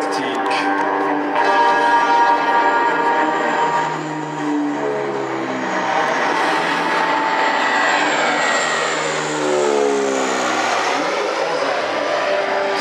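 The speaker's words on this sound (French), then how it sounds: "il est beau le Transal en approche tactique" A Transall military transport plane flies a tactical approach at the 2016 La Ferté-Alais air show, its turboprop engines giving a loud, sustained drone whose harmonics bend in pitch as it passes.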